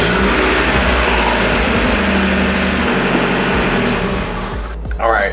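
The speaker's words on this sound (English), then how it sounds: "the engine already sounds so much smoother just on startup" A Mazda Miata engine runs steadily after a spark plug change, a close, even mid-pitched hum with a slight rev near the end and some broadband noise around it.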